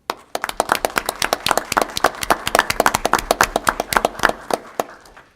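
Audience at a town council meeting applauding, a modest group of distinct, sharp hand claps in a loose rhythm, close and clear, without talk.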